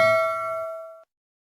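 A single bright ding rings out and decays smoothly over about a second, leaving silence.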